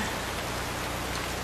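Steady rain falls and patters on surfaces, a dense, even hiss that fills the whole moment with no voices.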